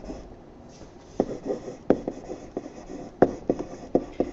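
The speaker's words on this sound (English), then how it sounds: "So let's just write that up here." Marker or chalk writing on a classroom board during a middle-school geometry lesson, a run of sharp taps and scratchy strokes in irregular bursts, fairly close, with no talk over it.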